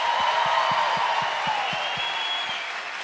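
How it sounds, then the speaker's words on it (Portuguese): A concert crowd applauds with rhythmic clapping in time, about four claps a second, beneath a sustained musical tone. "Aplaude mais, aplauda mais."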